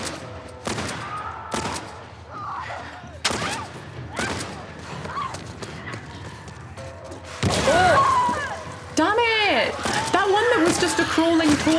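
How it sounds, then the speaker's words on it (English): Bombs explode in The Last of Us Part I: a series of sharp, booming blasts and crashes, followed by shrieking infected creature cries and further loud detonations in close succession. "crawling torso set off my other bomb"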